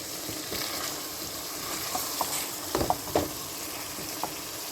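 Potatoes fry in a pan for karela, onion and lamb curry, a steady close sizzle broken by a few spoon scrapes and clinks near the middle, with no voices.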